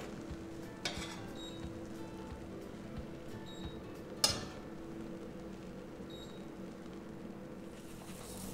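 Batter frying in a pan with butter or margarine makes a faint, steady sizzle, broken by a few soft clicks and one sharper tap of a utensil.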